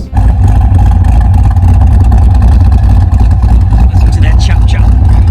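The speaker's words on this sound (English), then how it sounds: "Listen to that chop chop." A Pontiac G8, the Holden VE Commodore SS, idles with an aftermarket Texas Speed camshaft. A loud, close, deep engine rumble holds steady throughout.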